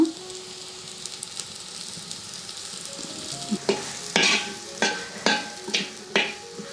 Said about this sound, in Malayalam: അതിലോട്ട് നമ്മൾ മുരിങ്ങയ്ക്കയും കൂടി ഇട്ടൊന്ന് ഇളക്കുക